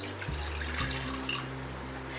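Water poured steadily into a mixing bowl with oil and vanilla for a vegan eggless chocolate sponge cake, a continuous close liquid pour heard alone with no talking.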